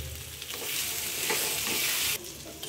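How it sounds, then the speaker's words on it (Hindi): Potatoes fry in ghee with cumin and spices, a steady broadband sizzle with stirring scrapes that holds loud and close before dropping off sharply near the end. "सबसे पहले हम जीरे और मसालों के साथ घी में आलू को फ्राई करेंगे"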